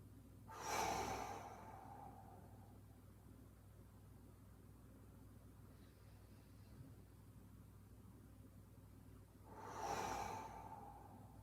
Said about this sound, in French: le menton un peu rapproché de la gorge et trois respirations profondes.